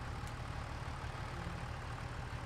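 A tractor in Farming Simulator 25 idles steadily, a continuous low rumbling drone that stays even and fairly loud throughout, with no voices over it.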